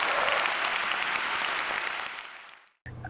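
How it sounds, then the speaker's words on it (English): An audience applauds with dense, loud clapping that holds steady, then fades out and stops abruptly, followed by a brief moment of other sound. "I think that deserves a round of applause"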